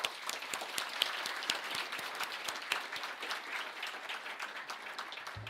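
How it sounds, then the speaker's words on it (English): Audience clapping for volunteers at a conference opening ceremony, a dense, sustained round of applause with crisp individual claps standing out, fairly close and without talk. "A round of applause, please, for our volunteers."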